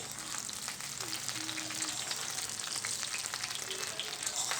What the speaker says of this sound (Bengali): ভেজে নিচ্ছি কুলগুলোকে জাস্ট তেলের সাথে উল্টে পাল্টে একটু নেড়ে চেড়ে